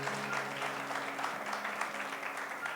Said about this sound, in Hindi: जोर से प्रभु के लिए ताली बजाएंगे।